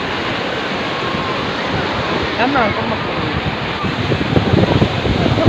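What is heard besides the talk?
sea waves at the shore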